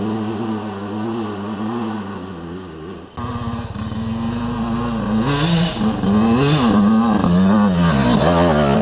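Yamaha dirt bike engine, a YZ85 or YZ250F on a hill climb, revving loud and close: a steady idle drone, then a sharp jump into rising and falling throttle blips that stay high through the end.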